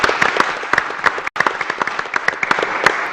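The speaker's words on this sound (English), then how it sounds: "let us give her a round of applause" A room full of people at a city commission meeting clapping steadily, dense overlapping claps with a brief gap partway through before the applause resumes.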